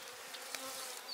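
Bees crowd over beehive frames holding eggs inside a queen castle compartment, giving off a faint, steady, continuous hum with no voices.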